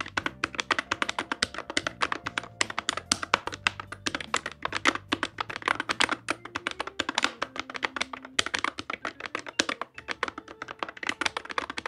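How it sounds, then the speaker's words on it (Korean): A rapid, dense run of sharp clicks from silent linear low-profile hot-swappable switches on a game controller, loud and close, with no talking. "게틀은 사일런트 리니어 로 프로파일 스위치예요"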